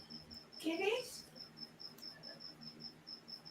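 A cricket chirps indoors in a steady, regular series of short, faint pulses repeating about every fifth of a second, with a brief burst of other noise early on.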